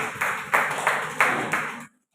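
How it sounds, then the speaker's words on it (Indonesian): A small group of middle school students claps for a presenting group in a classroom, a few distinct bursts of clapping that stop abruptly, fairly close and loud. "kita beri tepuk tangan dulu untuk kelompok 5"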